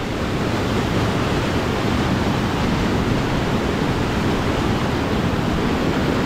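A large river rushes beneath a bridge, a loud, steady broadband roar of flowing water with some wind buffeting, constant throughout and no talk.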